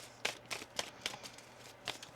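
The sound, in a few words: shuffling a deck of cards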